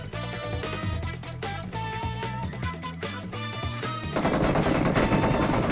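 Rapid bursts of gunfire in PUBG Mobile on the Erangel map ring out over a steady electronic music bed, the shots loud and close, ending in a dense wash of noise.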